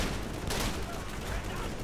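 Continuous gunfire in the Call of Duty 3 campaign on the island at St. Germain-sur-Sèves, a dense, loud wash of shots and battle noise with one louder burst partway through.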